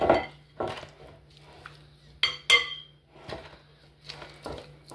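Caramel mixture for milk chocolate pecan turtles stirred in a pot, with a series of sharp clinks and knocks of a utensil against the pot's sides, irregular and fairly close, over a faint hum.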